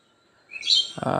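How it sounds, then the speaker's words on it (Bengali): Birds call outdoors among trees along a garden road, with a short high chirp rising out of near silence, then a fuller burst of bird sound that carries to the end. "পাখির ডাক"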